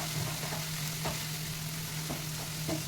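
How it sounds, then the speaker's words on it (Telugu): Onions sautéing in a pan for a vegetarian liver-style fry give a continuous soft sizzle, with a few light scraping stirs and a low steady hum beneath, no voices. "ఉల్లిపాయలు కొంచెం మగ్గనిద్దాము"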